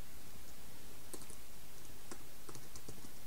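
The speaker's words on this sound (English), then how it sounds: "I'm just going to type in" Computer keyboard keys tapped in short irregular bursts during website setup, quiet clicks standing alone over low background hiss.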